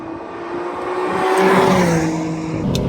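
A BMW M3 CS (G80) drives hard on an autocross course. Its engine note rises under strong acceleration, swells loudly, then shifts and settles, with a brief tire squeal. The car sounds close, and no one speaks.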